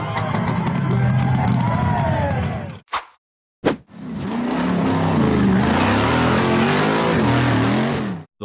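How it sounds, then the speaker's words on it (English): A red lifted pickup truck accelerates hard on a dirt track before launching off a jump. The loud engine revs with rising pitch, a crowd cheers, and there is a brief cut partway through. "The red lifted pickup truck accelerated hard and launched high off a dirt jump."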